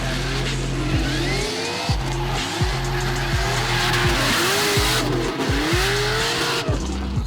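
Drift cars at a competitive drift series event, tires squealing continuously and loudly as engines rev and bounce off the limiter in rapid repeated pulls, close and without talk.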